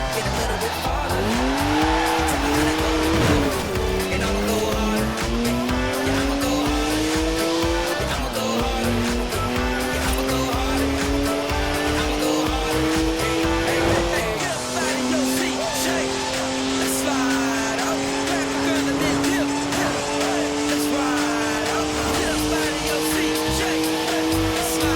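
A BMW racing in Forza Horizon 4, its engine roaring through repeated upshifts as the pitch climbs and drops, with tires squealing through the turns; loud and continuous, and a voice speaks over it.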